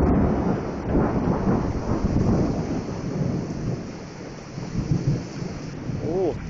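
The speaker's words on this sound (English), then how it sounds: "In the middle of a storm, here's a poor patch," Thunderstorm with high winds battering a pumpkin patch: loud, steady broadband roar of heavy rain and gusting wind throughout, with low thunder rumbles underneath.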